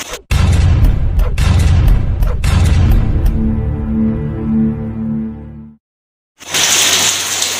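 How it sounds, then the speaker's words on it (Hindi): Heavy rain pours down in a loud, dense roar with a few sharp knocks early on, then cuts out briefly before the downpour returns. "किन्नी तेज बारिश लगी है"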